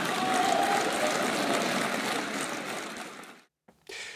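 Sustained applause fills a parliamentary chamber after a speech, a dense steady clatter of many hands that fades, breaks off into a brief silence, then briefly resumes.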